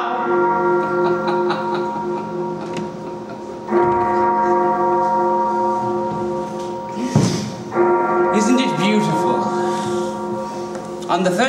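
A clock bell tolls in a stage production of Charles & Diana: The Musical, three resonant chimes each ringing out and decaying slowly, with a sung or spoken voice rising between strikes.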